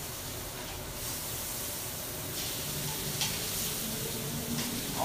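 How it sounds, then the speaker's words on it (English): Mahi-mahi sizzling on a grill after the surface is deglazed with acid, a steady, moderately loud hiss and crackle running throughout with a few brighter bursts and no talking. "deglaze that grill, give a little acid, let it sit"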